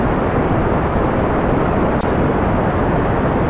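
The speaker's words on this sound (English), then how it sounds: "Detaching. Engaging pod thruster." Pod thruster firing on a spacecraft in the video game Kerbal Space Program, a loud, steady roaring rush that holds without a break throughout, with one brief dip partway through.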